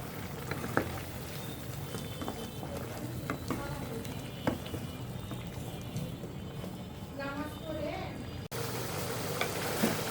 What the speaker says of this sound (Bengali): মাছ আর আলু একসাথে কষে নেব।